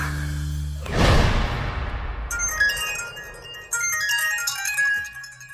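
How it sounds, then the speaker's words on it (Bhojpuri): A phone rings with a call from the home number: a melodic electronic ringtone, clear and close, starting after a short burst of noise and repeating its chiming tune alone. "फोन घर के नंबर से।"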